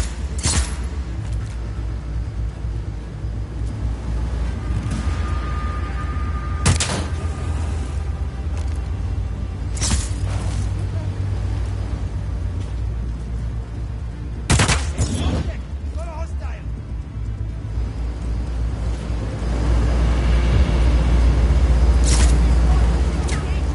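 Gunfire in the open-world game Just Cause 4, sharp isolated shots cracking out at irregular intervals over a steady rumble of engine and ambient noise, with a louder roaring stretch near the end.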